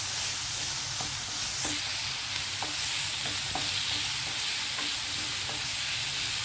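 Capsicum and green chillies sizzle steadily in a pan as a spoon stirs them, with soft scraping strokes recurring every second or so over a constant close frying hiss; no voices.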